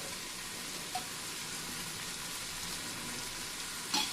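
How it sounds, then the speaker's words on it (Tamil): Soaked raw banana pieces fry in a pan with a steady, even sizzle throughout, fairly faint, with a couple of brief pops and no talk. "வாழைக்காய் ஊறிடுச்சு, வறுத்து எடுத்துடலாம்"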